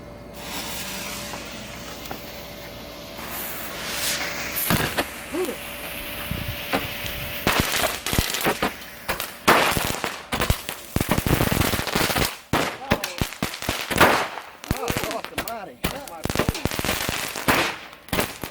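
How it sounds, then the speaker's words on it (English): Roman candle fireworks fired outdoors, a rapid series of sharp cracking pops and bursts with hissing between shots, growing denser and louder toward the end, with voices talking in the background. "So we're going to finish off the Roman candles, and then we're going to move on to bigger things. Last round with the Roman candles."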